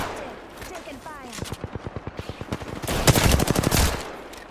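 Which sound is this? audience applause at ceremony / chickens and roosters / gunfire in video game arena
gunfire in video game arena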